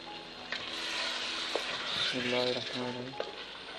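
Green squash (kaddu) frying in a pan with sliced green chilies, a moderate sizzle with occasional scrapes and clinks of a spoon as it is mixed, close and fairly soft with some background tones.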